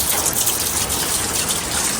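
Heavy rain pours down steadily outdoors, a dense, loud, continuous hiss with no pauses or voices.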